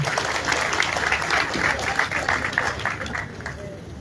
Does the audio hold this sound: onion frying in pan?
no